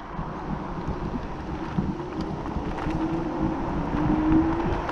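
A Freezway Ali Baba scooter riding down a road in North Carolina, a steady low motor drone under heavy wind rush with a faint rising whine, no voices.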